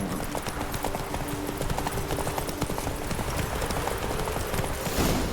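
Hooves of Geralt's horse Roach in The Witcher 3 clip-clop in a steady, close, continuous rhythm for the whole stretch, over a low game-world ambience with no talking.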